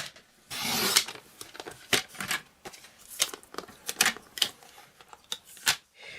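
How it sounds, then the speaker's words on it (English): Scissors snip through a paper sentiment strip from a stamp set for a handmade Christmas card, giving a rapid run of short, crisp, close cuts with a brief rustle of paper at the start and no voices. "I'm just going to cut that off."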